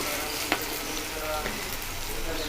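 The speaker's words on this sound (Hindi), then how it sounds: "तो अब इसमें हम पकौड़े डालेंगे कढ़ाई में।" Bread pakoras fry in hot oil in a kadhai, giving a steady, dense crackle with a couple of sharper pops as pieces drop in; no talk.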